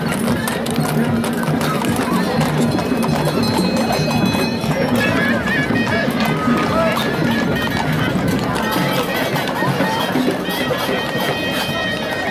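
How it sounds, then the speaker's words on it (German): Two horses pulling a carriage clip-clop in a steady rhythm on a busy square in Marrakesh, Morocco, amid a lively crowd with voices and background music. "Hier kann man schön auch mit einer Kutsche und mit zwei Pferden mal durchfahren."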